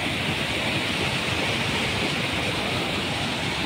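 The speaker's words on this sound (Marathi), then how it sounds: "हा सर्वात शेवटचा धबधबा इथं, जो इतक्या जोरात वाहतो आहे" Saptakund waterfall at the Ajanta caves, water pouring down hard in a steady, loud, broadband roar that continues unbroken throughout, with no voices over it.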